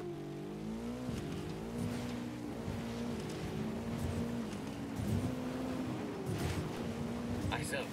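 Motorbike engine in Ghost Recon Wildlands drones steadily nearby, its pitch rising and dipping as the throttle shifts, with game voices speaking over it.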